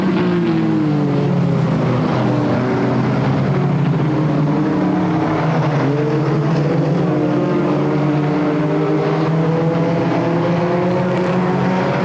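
Pure stock race cars roar around the oval at Flamboro Speedway, several engines droning and rising and falling in pitch as they pass, loud and continuous.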